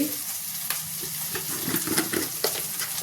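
Spices and chili powder fry in oil with vegetables for a vegetable biryani, a close crackling sizzle broken by several quick spoon scrapes and taps as the mix is stirred, with no talk.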